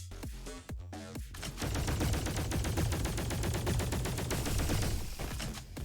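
A blast gun fires in the robot shooter game Roboquest, starting with a few separate shots before settling into a fast, steady stream of rapid gunfire that runs on for several seconds at moderate loudness.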